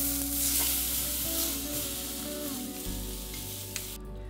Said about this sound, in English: When the lamb is brown on all sides, transfer it to a roasting tray.